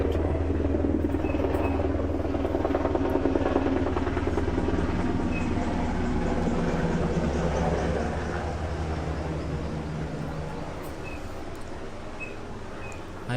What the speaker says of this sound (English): Oh, another helicopter.